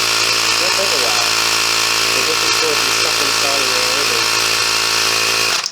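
A Ryobi One+ cordless tire inflator runs close up, pumping up a tire with a steady, loud motorized buzz and hum that holds unbroken throughout and cuts off abruptly at the end, with faint voices in the background.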